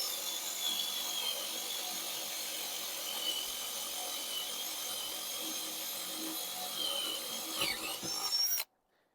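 A power drill carves a wooden horse figure for a headdress Indian on horseback carving, giving a steady high whine that grinds on for about eight seconds and then cuts off abruptly.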